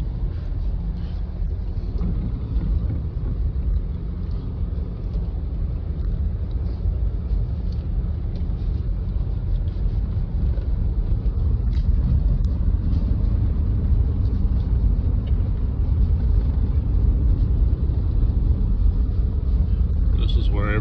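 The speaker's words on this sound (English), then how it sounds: "a short video just driving up our road." A car drives up a rural road in winter, a continuous low rumble of engine and tyres heard from inside with steady road and wind noise, while a voice talks over it.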